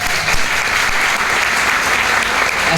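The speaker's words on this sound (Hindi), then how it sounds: "अपने लिए जोरदार तालियां।" Loud, dense applause from a large audience at a motivational mindset seminar. It is a steady roar of many hands clapping at once, sustained throughout without any speech.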